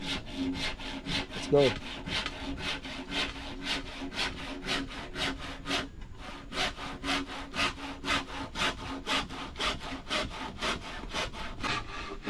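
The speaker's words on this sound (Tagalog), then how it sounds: "At si Kadede naman naglalagari na dito." A handsaw cuts through wood for a new nipa hut (kubo) seat in an outdoor yard, with steady, even back-and-forth strokes running close and loud throughout, a brief pause midway, and a short word spoken near the end.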